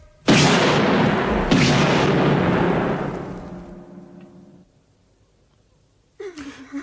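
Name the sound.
grenade explosions in radio drama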